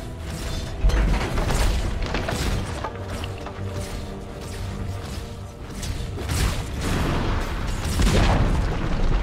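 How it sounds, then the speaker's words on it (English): Dota 2 top tower being destroyed in a match: heavy booming crashes and mechanical rumbling roll over busy battle noise, with louder impacts near the start and end. "Dire's top tower has fallen."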